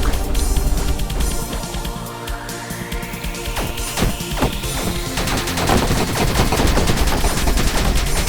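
Rapid gunfire from the space shooter game Fission Superstar X crackles continuously in loud, dense bursts, with a rising whine sweeping through the barrage.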